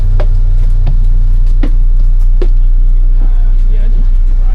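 Steady low engine rumble of a bus in China heard from inside while riding, with occasional brief knocks and clatters over the drone and people talking throughout.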